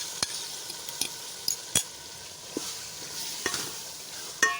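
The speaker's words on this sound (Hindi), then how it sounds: "अब इसके अंदर हम भरता डालेंगे अपना बैंगन का, जिसको हमने मैश किया था अभी।" Mashed eggplant bharta is stirred into masala frying in a pan, giving a soft, quiet sizzle broken by a few sharp clicks and scrapes of the spoon against the pan.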